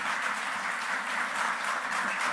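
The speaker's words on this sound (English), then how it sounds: "A big round of applause for the speakers and for all of us." Audience at an ICAI Dubai Chapter career preparation session clapping for the speakers, a steady even burst of applause from a room of people, with no talk over it.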